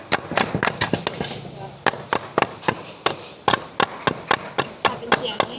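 A fired clay pot being knocked to test whether it is properly fired, giving a rapid series of sharp dry taps, some in quick clusters and some spaced out, close by, with someone talking between them.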